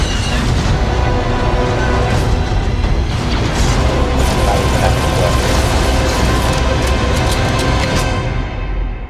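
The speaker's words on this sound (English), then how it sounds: "It's a shootout." Gunfire and blasts from a shootout in The Mandalorian trailer roar loud and dense, a continuous barrage of shots and booms layered with soundtrack music throughout.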